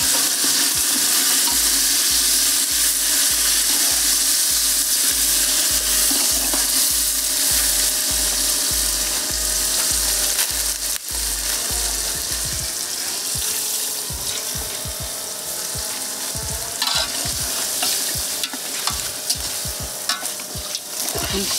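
Mutton fries in its own rendered fat for Jaffna biryani, a loud continuous sizzle with a regular rhythm of spoon knocks and scrapes against the pot, then looser stirring and clatter, without speech.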